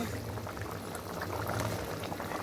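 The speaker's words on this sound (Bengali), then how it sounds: "এবার মশলাটা একটুখানি একদম পাতলা ঝোল রান্না করবো কাঁচা লঙ্কা দিয়ে" Thin fish curry gravy with green chillies bubbles in a pan, a steady close rolling boil with soft popping and a low simmering rumble throughout.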